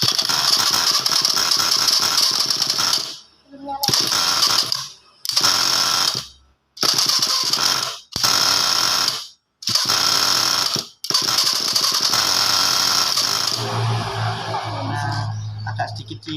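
A Thunder Tiger nitro RC car engine started with a glow igniter and given a little throttle, loud buzzing bursts cutting in and out several times before settling into a steadier run; voices talk around it.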